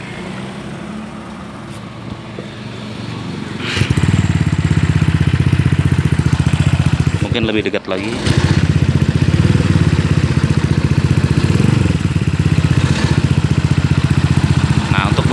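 Honda PCX 2018 scooter fitted with an R9 Misano exhaust idles with a steady, deep, rounded burble, starting softer and growing louder and closer after a few seconds, with a brief dip midway; a person speaks briefly over it.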